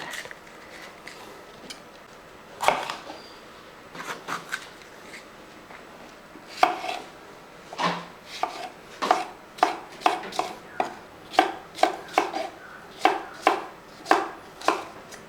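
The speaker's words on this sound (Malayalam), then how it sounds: "ക്യാബേജും ക്യാപ്സിക്കമൊക്കെ അരിഞ്ഞ് വെച്ചിട്ടുണ്ട്." A knife chops cabbage and capsicum on a board, with a few scattered cuts at first that settle into a steady run of crisp, close strikes toward the end, with no talking.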